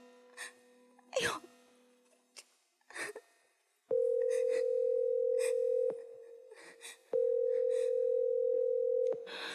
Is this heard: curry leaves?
no